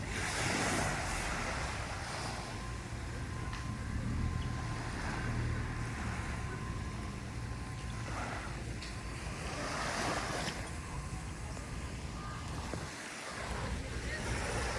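Surf rolls in continuously on a rocky shore at El Nido, Palawan, with a broad roar of breaking waves, heavy wind buffeting the microphone throughout.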